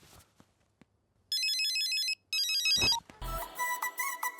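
A phone rings in two bursts of electronic trilling tones, followed by a brighter ringtone melody; quiet and close, with a few soft clicks before.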